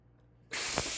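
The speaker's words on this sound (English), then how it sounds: "I'm gonna release the steam manually." Steam released manually from a pressure cooker after cooking beef short ribs, a sudden loud, steady hiss bursting in after a quiet moment and continuing at full force.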